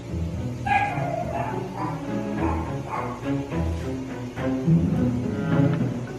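A small dog yaps and barks repeatedly in quick, irregular bursts, close by and fairly loud, with occasional whimpering between barks.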